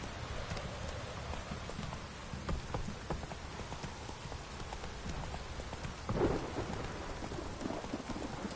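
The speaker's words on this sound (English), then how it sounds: "Proper downpour this is." Heavy downpour in The Witcher 3, steady rain hissing on surfaces with scattered drips and a low rumble of thunder, fairly quiet and continuous, with one brief louder thump partway through.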